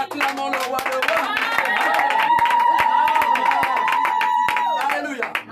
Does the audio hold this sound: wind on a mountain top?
no